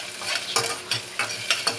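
Onions frying in a pan for sweet and sour fish, a close, steady sizzle broken by several quick stirring scrapes in a short burst, with no voices.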